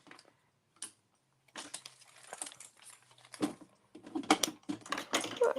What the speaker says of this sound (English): I will be stapling. I got my little stapler out.